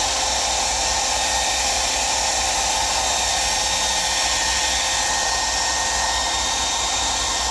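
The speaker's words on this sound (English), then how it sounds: "blow dryer get too close to the leather, and don't make it too hot" A hair dryer blows steadily at close range over mink-oiled leather boots, a constant broadband whoosh with a high whine, unbroken for several seconds.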